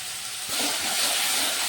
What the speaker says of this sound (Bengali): কাঁচা লঙ্কা বাটা এটা আমি এখন দিয়ে দিচ্ছি তেলের মধ্যে